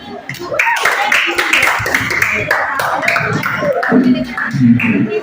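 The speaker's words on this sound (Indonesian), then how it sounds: "Yuk beri tepuk tangan." A classroom group claps together after a teacher's prompt, the claps dense and fairly close, mixed with voices and chatter throughout.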